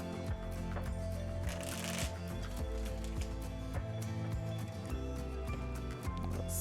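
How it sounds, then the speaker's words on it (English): Quick riffling and flapping of tarot cards being shuffled, faint and brief, over a steady background of soft music. "Give these one quick shuffle."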